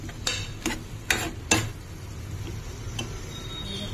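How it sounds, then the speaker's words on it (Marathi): A spoon scrapes and clatters in a pan as moth beans are mixed with red chili powder, turmeric and salt, several sharp strokes early on, then a soft background hiss. "मिक्स करून घेते चांगल्या प्रकारे."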